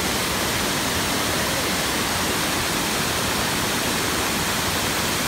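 Steady, dense rushing of a river flowing, a broad continuous wash of water noise that stays loud and unchanging throughout.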